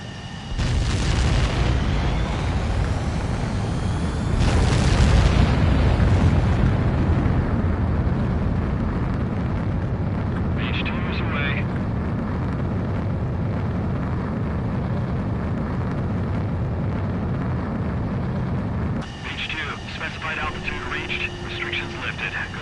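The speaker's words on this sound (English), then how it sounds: "begin takeoff sequence. You're cleared for launch" Fighter jet takeoff in the video game Ace Combat 7: a loud, sustained roar of engines with swelling booming blasts early on, holding steady before a shift near the end, with a voice speaking over it.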